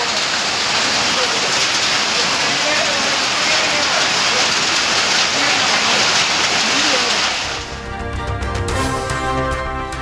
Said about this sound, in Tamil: வெப்பத்தை தணித்த கோடை மழை